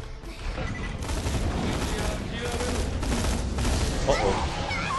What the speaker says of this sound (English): I'm just gonna use all this rifle ammo first